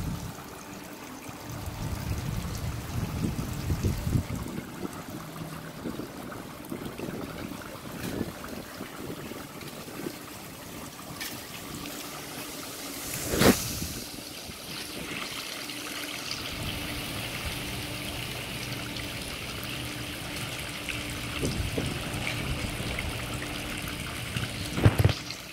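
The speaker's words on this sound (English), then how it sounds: "Here's our babbling water." Garden water feature on a September trail gives a soft, continuous babbling trickle, faint and steady throughout, with occasional handling bumps and a light airy hiss behind it.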